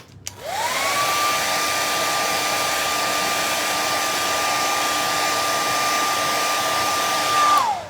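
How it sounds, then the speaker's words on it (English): A blow dryer dries paint on rain boots, whirring up to a steady high-pitched hum that holds for several seconds and then winds down, close and loud. "let's hit this with the blow dryer."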